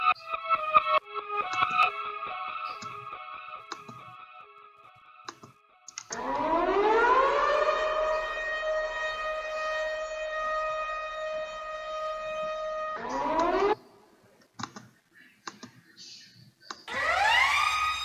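A siren sound effect inside an FL Studio hip-hop beat rises in sweeping wails over a sparse synth pattern, holding a long loud rising tone, then cutting out and returning in short upward sweeps, with no talking.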